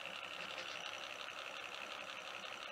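A steady, fast mechanical whir with a buzzing rattle runs continuously and evenly, a Lucas motorcycle dynamo humming along at constant speed on a low trickle-charge setting.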